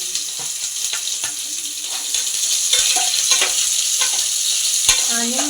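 Onion frying in oil and ghee for Rayalaseema palav: a continuous close sizzle with repeated scraping stirs and soft clinks of the spoon against the pot, a brief voice murmur near the end.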